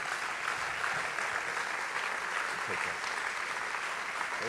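Steady applause from a church congregation standing to clap, a continuous dense patter of many hands at moderate volume with no break.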